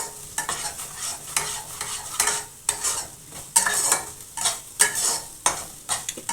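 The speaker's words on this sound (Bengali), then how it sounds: "আমি ততক্ষণ কষি ভালো করে" A spoon stirs and scrapes through chicken kofta curry with potatoes sautéing in a pan, giving rhythmic clinks and scrapes over a light sizzle, close and fairly loud with no talk.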